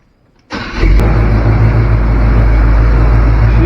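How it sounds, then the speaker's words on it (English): A longbed race truck with a Flowmaster exhaust fires up after a moment of near silence and settles into a steady, loud idle with a low, even exhaust rumble close by. "She is nice and quiet under the hood. Nice and quiet. Even though it's got a little Flowmaster rumble."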